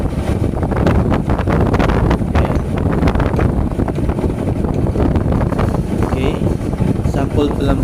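Steady wind buffeting the microphone, loud and constant throughout with a rough low rumble.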